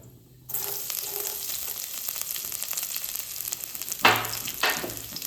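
Chopped garlic and asafoetida sautéing in hot oil for a spinach and lentil curry: after a brief quiet start, a steady near sizzle runs throughout, with two louder stirring scrapes toward the end and no talking.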